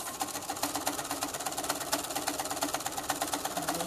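A sewing machine runs continuously with a fast, even needle rhythm, quilting a seam with the quilt-as-you-go technique, close and fairly loud throughout.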